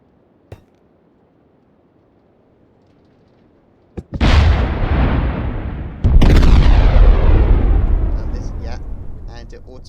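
A guided cannon shell strikes a ship in a modded video game with a sudden loud explosion, then a second heavier blast that rumbles and decays, after a near-silent lead-in with a faint click.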